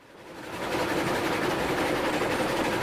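A train rolls along in the railroad game Railroads Online, a steady broadband rumble and rattle that swells up over the first half second and then holds constant and fairly loud, with no talk.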